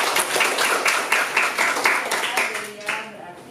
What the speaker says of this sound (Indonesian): Berikan aplaus dulu untuk